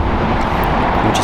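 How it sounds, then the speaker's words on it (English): An Airbus A380 departs from LAX International Airport, its engines a loud, broad, steady roar filling the short stretch with no break. "What a magnificent A380 departure"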